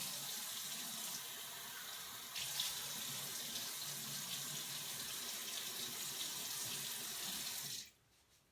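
Steady broadband hiss of a bathroom tap left running, a cool stream filling or splashing into a sink at close range for about eight seconds before cutting off abruptly near the end.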